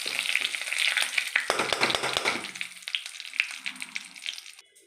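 Hot tempering of green chili fried in oil poured into khichuri gives a loud, close burst of sizzling and crackling. It fades gradually over several seconds to a faint simmer.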